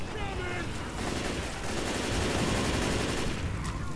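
Gunfire from Left 4 Dead 2 crackles in a dense, continuous barrage of game shots with a steady roar underneath, with no clear gaps between bursts over the few seconds.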